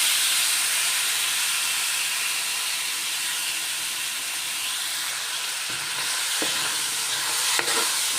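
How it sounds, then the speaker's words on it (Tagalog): Potato and carrot frying in a pan, a continuous loud hissing sizzle with a few faint knocks of a utensil near the end. "ipra-fry ko muna itong potato and carrot"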